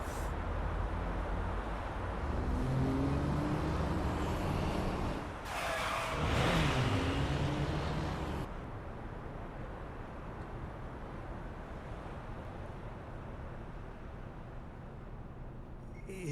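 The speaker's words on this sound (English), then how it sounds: "I can hear tires screeching." Car tires screeching in the fighting game Guilty Gear Strive, over a loud, continuous engine and road roar that swells briefly to a harsher squealing burst partway through, then settles to a steady rumble.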